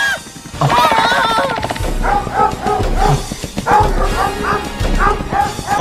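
Cartoon hounds in an SMG4 animated video bark and yip in a rapid, overlapping flurry, several dogs at once, loud and close, with a few whimpers mixed in, while voices talk over them.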